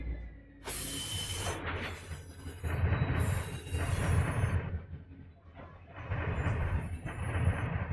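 A six-engine, 12,000-ton coal freight train rolls in the Run 8 train simulator game with rumbling wheels, clanking cars and rising and falling mechanical noise.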